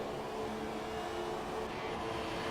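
Formula 1 race car engines in F1 2017 during a Canadian Grand Prix battle between a Haas and a McLaren, a steady high-pitched whine droning continuously at moderate, somewhat distant level.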